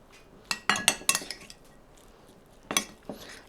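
Warm leftovers stirred with homemade barbecue sauce in a dish, a utensil clinking and scraping against the bowl in several quick bursts, a pause, then a few more clinks, close and without talk.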